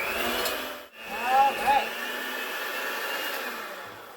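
A hand-held electric mixer whirs steadily through carrot cake cookie batter in a home kitchen, a continuous motor drone that holds for several seconds with a brief dip near the start.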